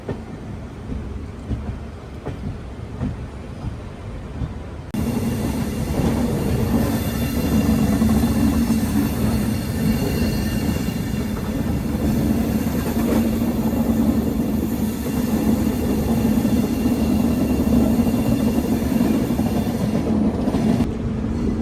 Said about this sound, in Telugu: స్లో అయిపోయింది బండి